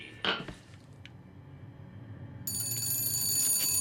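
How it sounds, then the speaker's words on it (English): In BioShock Infinite, a telephone rings with a sharp metallic bell tone that starts midway through and keeps going, loud and alone after a brief clatter and quiet room tone. "Time to answer the phone."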